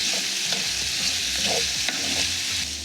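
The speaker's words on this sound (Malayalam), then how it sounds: "ഇതുപോലെ നമ്മളിങ്ങനെ വെച്ചതിന് ശേഷം ഇടയ്ക്കിടയ്ക്ക് ഇളക്കി കൊടുക്കണം, അടിക്ക് പിടിക്കാതിരിക്കാനായിട്ട്." Diced red potatoes with salt frying in a skillet while being stirred, a steady close sizzle broken by soft scraping and clinking of the spoon against the pan, with no talking.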